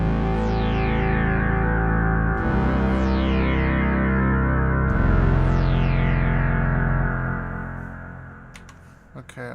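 Sustained distorted music drenched in heavy reverb, with swirling echoing tails trailing off each chord before fading near the end.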